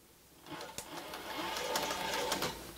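A Cobra Class 4 industrial sewing machine stitches along a fabric edge, its motor whirring up into a steady, fast needle rattle with sharp clicks, close and fairly loud, with faint talk beneath.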